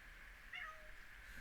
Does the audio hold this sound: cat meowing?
yes